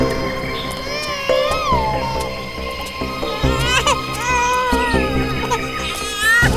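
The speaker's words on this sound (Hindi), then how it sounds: "उस तरफ से बच्चे के रोने की आवाज आ रही है।" An infant's wailing cries rise and fall in repeated drawn-out bursts within a tense scene of a Hindi TV crime drama, set against a low background score.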